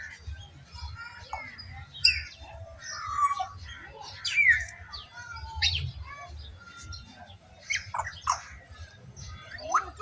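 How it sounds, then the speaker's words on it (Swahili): Parrots at the Saba Saba exhibition let out repeated sharp squawks and chirps, scattered irregularly over a low crowd rumble. "Kuna kasuku."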